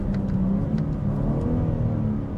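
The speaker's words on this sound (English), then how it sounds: "the acceleration is very smooth and natural feeling" BMW M4 Competition accelerating hard after a launch, a steady, loud engine drone with rising revs and no pauses, close and alone.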